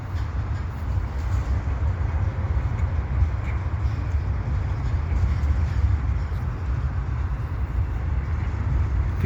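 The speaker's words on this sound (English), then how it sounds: "these orange and green colorful stacked trains" A long CP eastbound mixed freight with orange and green double-stacked containers rolls past in winter at Dorval, a continuous heavy low rumble of wheels and cars that stays loud and steady without letting up.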